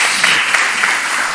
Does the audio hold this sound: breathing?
no